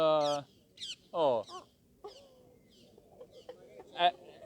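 A pair of green parrots calling in a park in Palermo, Sicily, loud harsh squawks in several short bursts, close by, followed by quieter background chatter.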